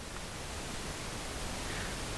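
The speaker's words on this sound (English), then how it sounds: "So this is just pink noise," Pink noise test signal fed through a Waves LV1 console on a Dante network, a steady, loud, broadband hiss that holds evenly across the whole stretch with no voices.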